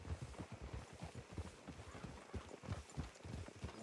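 Horse hooves clip-clop in a steady, rapid rhythm in Red Dead Redemption 2, a continuous trotting patter filling the whole stretch with no talk over it.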